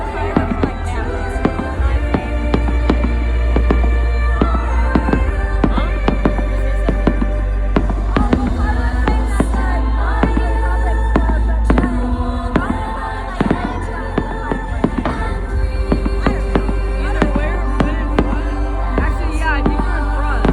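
Fireworks exploding at a huge firework show in America, a dense barrage of booms and crackling bursts going off continuously, loud and close, with people talking in the crowd.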